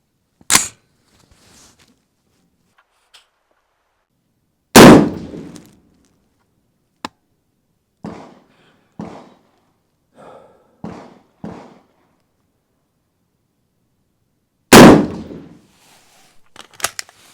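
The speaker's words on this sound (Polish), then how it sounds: "Obok strzela kolega" Rifle shots ring out at a shooting range, three loud sharp cracks spread widely apart, with quieter shots from a neighbouring lane between them.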